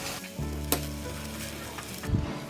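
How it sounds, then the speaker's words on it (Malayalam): Custard mixture being stirred into cooked apple in a pan, a close sizzle with a utensil scraping and a brief clink, heard alone without talk. "അപ്പം നമുക്ക് ഈ കലക്കി വെച്ചിരിക്കുന്ന കസ്റ്റാർഡിൻ്റെ കൂട്ട് ഇതിലേക്ക് ഒഴിച്ചിട്ട് ഇളക്കി കൊടുക്കണം."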